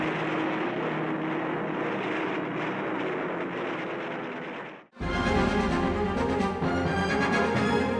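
Kamikaze aircraft in the World War II video game Heroes of the Pacific: a steady propeller-engine drone that cuts abruptly into a louder, closer roar with heavier low rumble.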